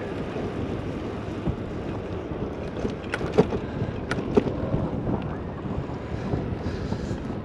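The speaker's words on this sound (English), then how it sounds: "Very windy." Strong gusts batter the microphone while riding a homemade electric bike toward a thunderstorm, a continuous low roar with a few sharp clicks and knocks breaking through.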